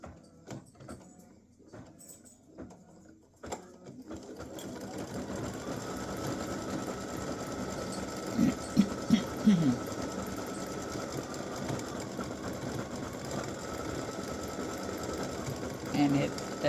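An embroidery machine stitches the white areas of a candy cane in a continuous run, its steady mechanical hum and needle patter rising after a few quiet seconds and holding loud and even to the end.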